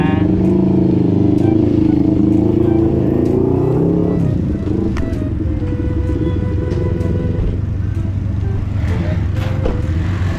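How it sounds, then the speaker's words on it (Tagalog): A group of big motorcycles rumbles past close by, their engines forming a thick, continuous roar that shifts in tone as the bikes move by. "Ang taray ng mga big bike nila, oh."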